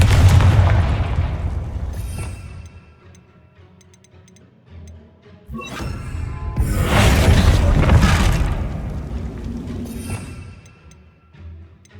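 Confringo spell explosion in the video game Hogwarts Legacy: a deep booming blast that rumbles and fades, followed by a second louder explosive burst with crackling debris, close and powerful.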